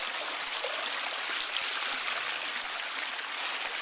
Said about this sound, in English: So the water's been released right here.